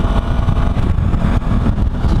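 A Suzuki V-Strom 1000 motorcycle cruises along the Ventura Highway near Rincon Beach, its steady engine drone mixed with heavy wind buffeting at the microphone, loud and continuous.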